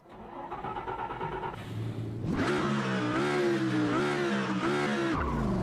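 A race car's engine fires up in Automobilista 2, a low rumble that jumps into a loud, steady idle and revving drone with strong harmonic tones, continuing without any speech.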